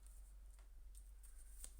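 Tarot cards being shuffled by hand, a few soft quick riffling bursts, close and quiet against a low background hum.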